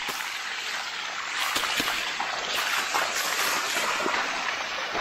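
Water streams down the limestone-coated Bua Tong sticky waterfall near Chiang Mai, a steady close broadband rush that stays constant throughout with no voices.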